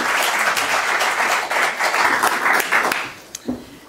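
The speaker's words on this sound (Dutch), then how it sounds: "Applaus." Steady audience applause fills a housing debate in Amsterdam, a dense wash of clapping hands that carries on for several seconds before thinning and fading out.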